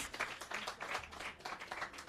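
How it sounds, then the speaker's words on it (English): An audience claps for a primary school student presenter at a public event, a brisk, uneven patter of many hands sustained throughout at a fairly quiet level. "you're going to give her a very big round of applause"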